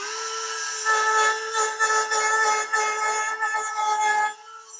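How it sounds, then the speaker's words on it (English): A Dremel rotary tool grinds down the stem of a Skybolt fastener, a high, steady whine with a grittier rasp as the bit bites the metal, close and loud for about four seconds before spinning down. "take a Dremel right here and just grind that stem off a little bit"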